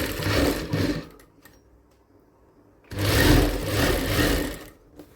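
Sewing machine stitching a designer blouse seam, two clear runs of close whirring stitching separated by a quiet pause of about two seconds, with no talking.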